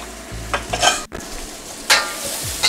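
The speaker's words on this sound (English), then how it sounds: "So here's my onions and my celery going in." Onions and celery going into a hot wok, a steady sizzle of frying broken by a few sharp scraping stirs of the utensil, close and fairly loud.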